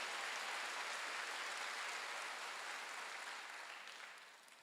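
A church congregation applauds during a Sunday worship service, a broad, sustained wash of many hands clapping that gradually fades out at the end.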